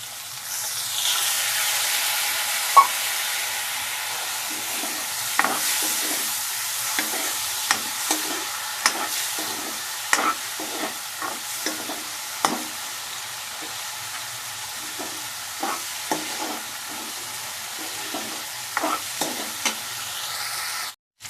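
Pointed gourd masala for a prawn curry stirred and sautéed in a pan, a steady low sizzle broken by frequent clinks and scrapes of the spatula, close and fairly loud, no voices.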